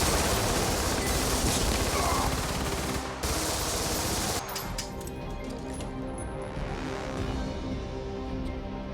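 Gunfire from a shootout in an action film, a dense crackling barrage of shots loud for the first four seconds, then continuing more sparsely with scattered sharp cracks over a noisy background.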